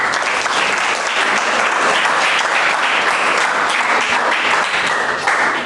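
A classroom of students applauding after a math answer, loud dense clapping sustained evenly throughout at close range.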